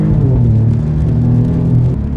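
An Alfa Romeo Giulia Quadrifoglio accelerating on wet asphalt at Vransko gives a steady, loud, low engine drone with rising harmonic tones, heard close and continuous with no talk.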